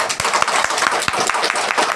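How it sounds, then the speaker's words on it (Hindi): A short burst of enthusiastic applause from a crowd at an Independence Day school gathering in a village, sharp claps rising loudly and continuing steadily for about two seconds. "इनके लिए जोरदार ताली"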